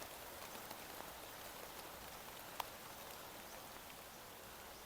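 Steady rain falling over a garden walk with blooming plants and orchids, an even hiss of drops on leaves and surfaces throughout, with one sharp drip or tap standing out midway.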